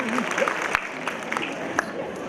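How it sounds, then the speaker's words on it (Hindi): An audience at the Shaheen Islamic Quiz Contest claps for a quiz team that answered correctly, a continuous wash of applause with scattered sharper claps and faint voices mixed in. "2000 तालियां इनके लिए।"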